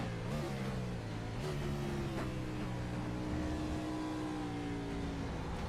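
A BRRA Cup Series race car at Portland International Raceway drives loose through a corner, its engine holding a loud, steady drone that shifts pitch as the driver works the throttle.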